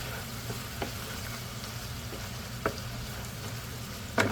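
Onion and ground beef frying in a pan give a low steady sizzle, with a few faint scraping clicks scattered through and a sharper knock near the end, with no voices.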